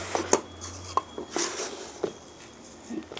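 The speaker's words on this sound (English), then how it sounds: "I'm going to fill each of my little containers up with our mix" Potting mix goes into small plastic plant containers for hydrangea cuttings with soft, scattered scrapes, pats and light taps, quiet and close, with irregular pauses between them.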